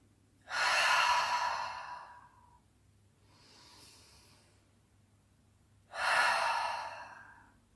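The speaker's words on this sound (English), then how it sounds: "We're just going to take 2 deep breaths, and we're going to exhale out with an open mouth." Two deep, slow breaths exhaled through an open mouth during a relaxing yoga session, each a long, close, breathy whoosh, separated by a quieter inhale in between.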